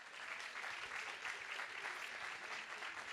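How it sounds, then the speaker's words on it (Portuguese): An audience at a book fair stage applauds in a steady, even burst, the clapping fairly faint and continuous. "Palmas para o Pelanda"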